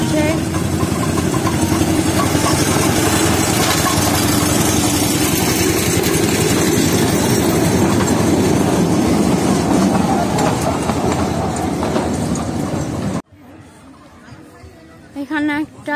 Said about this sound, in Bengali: টয় ট্রেন মনে হচ্ছে আসছে না, এই যে টয় ট্রেন আসছে